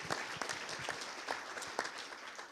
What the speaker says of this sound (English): no more clapping